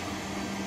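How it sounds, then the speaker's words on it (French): A robot vacuum cleaner runs on its own in a home, giving a constant, close whirring hiss with a low steady hum and no change across the moment. "l'aspirateur qui passe tout seul là"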